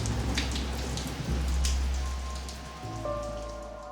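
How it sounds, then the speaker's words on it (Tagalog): Steady rain pattering on surfaces outdoors in a rural village, a dense, continuous patter close by with a low hum running underneath. "Sana yuminto ang ulan mamayang tanghali."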